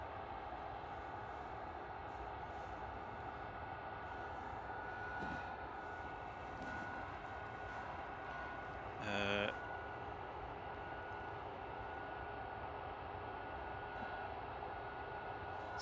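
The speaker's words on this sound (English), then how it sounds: "Another Delta A380 just passing over the top." A Delta A380 airliner passes overhead at Manchester Airport, heard as a faint, steady distant engine rumble with a brief tonal swell partway through.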